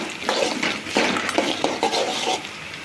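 Sliced onions and green chillies being stirred in a pan for chickpea sundal, with a spoon scraping and clinking against the metal in short, uneven strokes, close and moderately loud.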